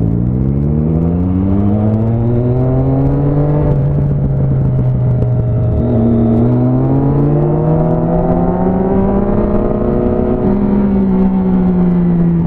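A Kawasaki ZX6 motorcycle engine revving loud and close, its pitch climbing, dipping and rising again over about twelve seconds, with no talk.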